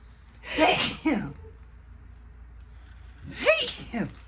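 Two sharp sneezes, a few seconds apart, each with a quick inhaled build-up, close to the listener in an otherwise quiet room.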